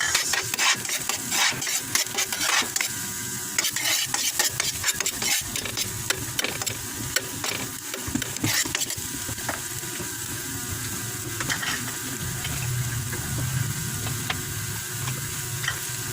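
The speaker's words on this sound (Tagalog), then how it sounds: "Igisa natin. Sibuyas." Onion sautéing in a pan for ginataang tilapia produces a loud, close, continuous sizzle with rapid scraping and rubbing stir strokes throughout, steadier and smoother in the second half.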